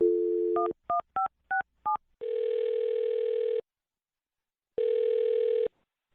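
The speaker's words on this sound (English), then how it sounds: "I'll dial this phone number right now and see if we can figure it out" Telephone keypad tones beep in a quick run of five short dual-tone presses, followed by a steady dial-style tone that cuts off, then returns once more after a pause, clear and close with no talk.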